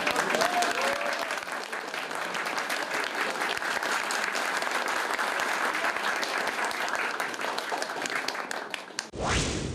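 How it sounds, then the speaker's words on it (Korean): Sustained applause from a large crowd at a political event, dense and even for several seconds before cutting off abruptly, with a faint voice underneath. "큰 박수 부탁드리겠습니다."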